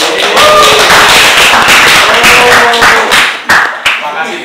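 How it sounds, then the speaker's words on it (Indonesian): Classroom applause for a student who answered correctly, a burst of many hands clapping steadily over roughly four seconds, close and fairly loud, with children's voices mixed in and some sharper taps near the end. "kamu beri tepuk tangan buat Singgi."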